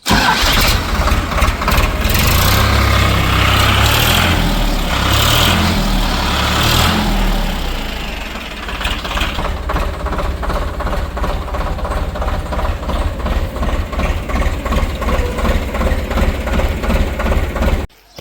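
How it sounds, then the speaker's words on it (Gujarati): A loud Eicher 551 4x4 tractor engine runs close by, revving roughly at first, then settling into a steady, throbbing idle before cutting off abruptly. "તમે આ ટ્રેક્ટરનો સાઉન્ડ સાંભળી શકો છો"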